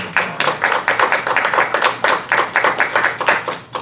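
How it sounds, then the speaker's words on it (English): A church congregation at a Sunday service claps for the music team, with distinct, fairly close claps forming a rhythmic, uneven patter from a modest crowd. "Let's give them a great round of applause."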